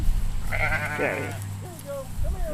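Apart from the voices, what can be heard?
sheep bleating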